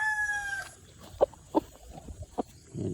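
A Gilmore green gamefowl rooster, a dirty gray bird, crows once up close at the start, followed by a few short clucks and scattered calls.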